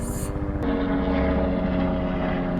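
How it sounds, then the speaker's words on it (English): Helicopter passing over a parking lot, a steady low rotor and engine drone that swells slightly after a soft click and holds near and loud throughout, with no talk. "Helicopter."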